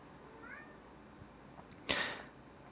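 A cat makes a soft, short meow, then a louder, breathy cry a moment later, both fairly faint in a quiet indoor space.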